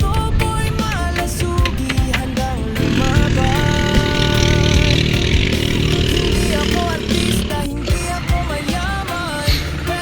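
Repaired boat engine with a newly fitted crankshaft running loud and continuous, its pitch stepping up and down as it is throttled, with a voice talking over it.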